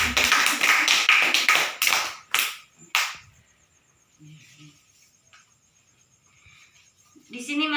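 Applause from a small group bursts out at once, dense and close, then thins into a few scattered last claps before near silence and a voice starting to speak.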